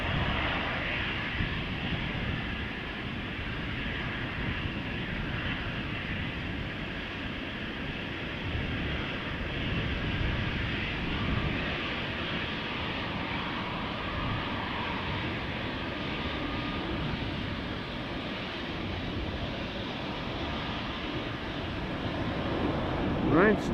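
An Embraer 195 jet taking off from the center runway at Amsterdam Schiphol, a sustained roaring engine whine from a distance, building slightly toward the end, with a voice talking over it.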